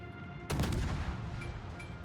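Warship guns fire in World of Warships as a single sudden heavy boom that rolls into a rumbling decay lasting over a second, loud and close.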